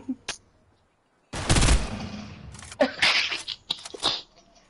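Gunfire in the video game Fortnite: a sharp shot, then a dense rapid burst of firing followed by scattered shots and impacts, loud and close.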